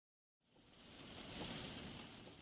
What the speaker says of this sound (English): It's cool and raining as I head out onto the highway once again.